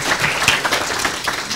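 Breakfast-club audience clapping as a congressman is welcomed, a close, dense burst of many hands that carries on evenly for a moment without speech.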